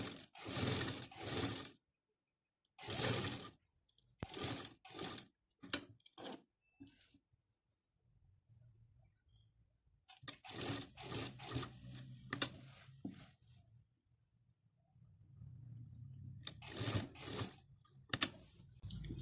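A sewing machine stitches a zip onto a feeding kurti in short separate bursts, close and clear, with quiet pauses between runs and a soft low hum in the gaps.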